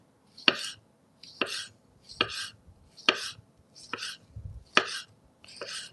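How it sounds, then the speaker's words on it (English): Knife slicing two tomatoes on a cutting board for a salmon and sardine salad, seven crisp, evenly spaced cuts close by with short pauses between, no talking. "Okay, so 2 tomatoes."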